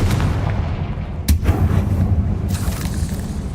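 A Confringo blasting spell goes off in Hogwarts Legacy, with a sharp crack followed by a booming blast over a steady low rumble of game ambience, and a second burst trailing after.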